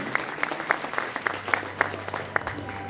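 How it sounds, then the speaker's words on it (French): An audience at a Miss Petite de France 2019 pageant applauds the make-up school team, producing sparse, rhythmic claps that ring out at a moderate distance over a hall murmur. "On peut les applaudir très fort"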